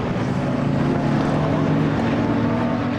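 A supercar racing at the Assen circuit accelerates hard out of a slow corner, a loud, sustained engine roar with a steady droning tone that stays constant throughout, no talk audible.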